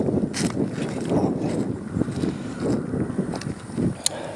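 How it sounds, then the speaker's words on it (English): Strong wind gusts buffet a camera microphone outdoors on a homestead, a steady rough rumble with louder surges and a few sharp crackles throughout. "I know the wind's blowing hard"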